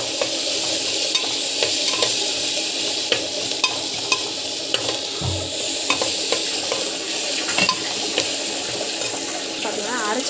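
A spicy sprouts masala is stirred and sautéed in a pan, giving a continuous close sizzle broken by regular scraping strokes of the spoon. The sound is fairly loud and steady throughout.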